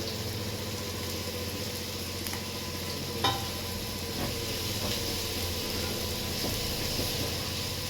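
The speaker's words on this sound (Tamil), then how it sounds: "இந்த தக்காளி இந்த எறாக்கு போட்டுறேன்." Tomato and prawns sizzle and are stirred in a pan for a fish curry base, producing a steady close fry with occasional sharp clicks of the spoon against the pan and no talk.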